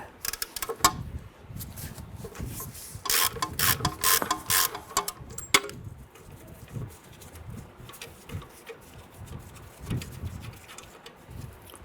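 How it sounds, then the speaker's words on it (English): A hand ratchet turns a 15/16 socket to remove the ABS wire bracket on the front suspension of a 1994–2004 Ford Mustang, giving bursts of sharp rapid clicking that come and go, close and loud, with metallic handling noises between bursts. "Remove the ABS wire bracket using a 15/16 socket and our ratchet."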